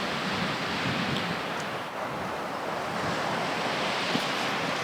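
Waves wash steadily onto a Baltic Sea beach near the port of Gdansk, Poland, a continuous broad surf roar mixed with wind buffeting the microphone, with no voices.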